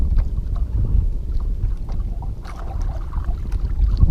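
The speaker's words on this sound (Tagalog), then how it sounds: "Kaya pala napugak-pugak na yung makina ko eh." Small fishing boat engine sputtering at sea while running low on fuel, a steady low rumbling drone with irregular choppy pulses, mixed with wind buffeting the microphone and no talking.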